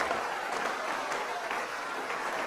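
A church congregation applauds a preacher during a lively service, a dense, steady wash of many hands clapping at moderate distance with no pauses.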